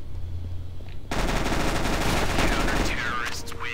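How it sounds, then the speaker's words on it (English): Rapid automatic gunfire in the Counter-Strike: Global Offensive video game erupts suddenly and continues loud and dense, with shorter game effects near the end. "Someone shooting you, move!"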